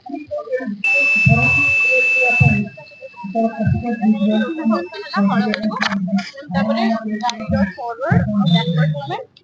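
A driver safety alert buzzer sounds as one loud, steady electronic tone for a couple of seconds, followed by someone talking at length.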